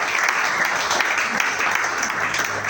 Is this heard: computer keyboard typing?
no